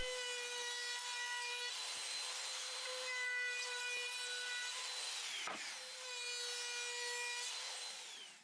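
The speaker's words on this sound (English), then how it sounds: "for the edges I'm using a round over bit" A router fitted with a round-over bit shapes the edges of 1x10 boards, giving a fairly quiet, sustained motor whine with a rough rubbing, cutting texture that briefly dips and resumes.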